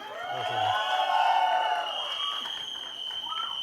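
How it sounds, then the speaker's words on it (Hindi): A crowd at the Mirzapur film trailer launch event cheers and whoops, a sustained roar of voices that swells and holds steady throughout. "तालियां होनी चाहिए भाई"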